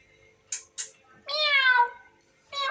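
A neighbours' cat visiting a home meows nearby, a long clear drawn-out meow after two short sharp sounds, then a second meow beginning at the end, in an otherwise quiet room.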